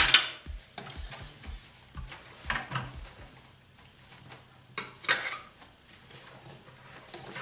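Metal tire spoons lever a dirt bike tire onto its rim, producing scattered knocks, scrapes and a few sharp metallic clinks at close range.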